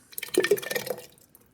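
Canned Hunt's tomatoes from 32-ounce cans glop and splash into a pot of chili, a short wet pour of a couple of soft plops followed by a brief trickle, close and fairly quiet.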